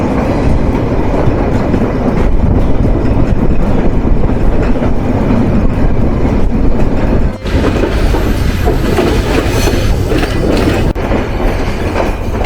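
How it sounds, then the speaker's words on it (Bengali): The Rupsha Express, an intercity down train, runs on rails near the Saidpur railway workshop in Bangladesh, giving a loud, steady rumble of wagons with a brief dip midway, with no voices. "train number seven two eight intercity down Rupsa express প্রবেশ করতে চলেছে যাত্রাপথে তার তৃতীয় যাত্রাবিরতি স্টেশন"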